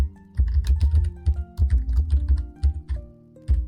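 Steady keystrokes clatter on a computer keyboard while C++ code is typed, irregular bursts of close, crisp clicks with brief pauses, no talking.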